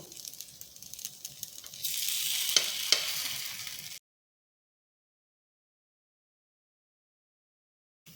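Semolina appam cooking in oil in an appe pan, a soft bubbling sizzle that swells louder midway with a couple of light metallic taps, then the sound stops into silence.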